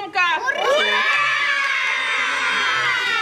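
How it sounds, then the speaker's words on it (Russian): A crowd of children shouts loudly and continuously at a rural ribbon-cutting celebration outside a village house of culture, a sustained cheering roar that swells quickly and holds at full volume. "Кричим громко."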